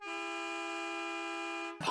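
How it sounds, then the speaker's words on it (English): A single long car horn blast, loud and steady for almost two seconds, then cut off abruptly. "Honk, honk."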